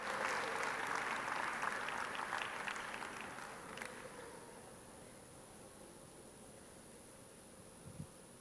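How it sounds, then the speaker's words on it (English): A conference audience at an international congress applauds, loud clapping for about four seconds that then fades into quiet room ambience with a faint thump near the end. "I was waiting for two rounds of applause."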